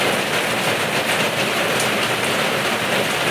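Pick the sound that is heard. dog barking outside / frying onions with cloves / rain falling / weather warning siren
rain falling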